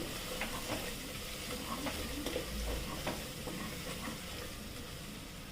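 Spices and cumin powder frying and being stirred for a mutton cashew curry: a steady, quiet sizzle with soft scraping stirs throughout, no talk.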